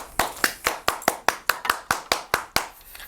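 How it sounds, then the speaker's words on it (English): Light, polite golf-style hand clapping, about a dozen crisp claps in a steady, evenly spaced rhythm, close and isolated with no talking over it. "That deserves a golf clap."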